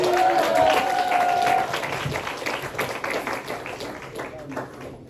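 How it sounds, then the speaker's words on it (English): A room of people at a coffeehouse comedy show applauds, loud at first, then the clapping thins and fades while someone talks over it. "Let's give her a round of applause."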